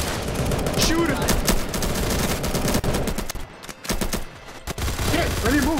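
Rapid bursts of gunfire from the video game Facility Lockdown fire loud and dense, with a short lull partway through before the shots resume, mixed with clipped game sounds and excited voices.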